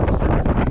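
Strong wind buffets the microphone outdoors at a magnet fishing spot, a loud continuous roar and rumble with no speech over it.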